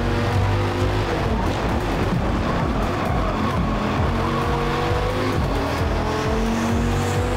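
A race car at Laguna Seca in Forza Motorport, its engine roaring loudly and steadily while braking, with tyres squealing and skidding.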